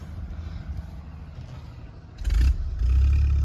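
A school bus stuck in a field has its engine revved in first gear, a low idle rumble rising into a sudden loud surge of engine roar with a brief scrape, then holding heavy and strong.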